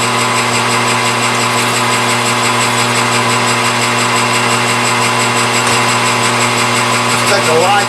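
A metalworking machine tool takes a light facing cut across the tops of small parts, giving a loud, steady motor whine with constant tonal hum that runs unbroken throughout.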